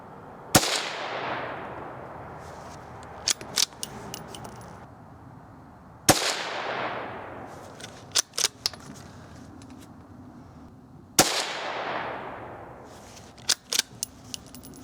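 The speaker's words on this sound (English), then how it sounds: "we're going to be shooting at the target on the right with the Armscore 22 Magnum 40 grain jacketed hollow point" Winchester model 275 rifle firing .22 Magnum 40 grain jacketed hollow point rounds, three sharp cracks spaced about five seconds apart, each trailing into a decaying echo, with small clicks from the action in between.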